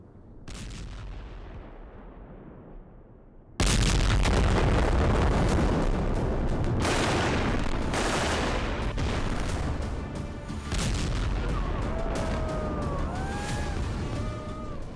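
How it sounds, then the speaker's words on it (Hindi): Israeli air force bombardment in Gaza, a sudden heavy blast followed by continuous loud rumbling and crackling of explosions, with faint sliding whistle-like tones late on. "तब इजराइल की वायुसेना बमबारी से तबाही मचा रही थी"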